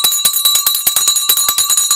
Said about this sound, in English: And guys, it's bell.